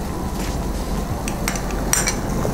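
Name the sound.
adding crushed garlic and grated ginger to sauteing onions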